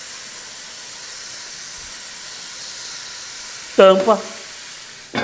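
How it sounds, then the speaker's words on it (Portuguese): Oxtail with a sprig of rosemary sizzles gently and steadily, frying slowly in a pan with a soft, even hiss; a voice speaks briefly near the end. "e continua fritando devagarzinho"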